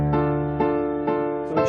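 Piano intro of a song: four evenly spaced chords, each struck and left to ring, played alone and clearly.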